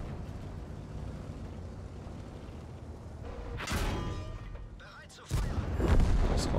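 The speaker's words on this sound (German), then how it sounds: "Ja, natürlich geht der voll daneben," A tank's main gun firing in the World of Tanks video game: a sharp heavy boom near the middle, then another blast toward the end, over rumbling engine and battle noise.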